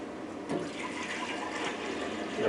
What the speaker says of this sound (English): So we're going to put in 3 cups of water.